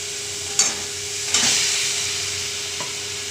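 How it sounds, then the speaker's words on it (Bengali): Lote fish, rubbed with salt, turmeric and chilli powder, frying in a spice masala: a steady close sizzle and hiss with a few soft stirring knocks from a spoon; no one speaks. "এই মশলাটার সঙ্গে ভালো করে কষে নেব"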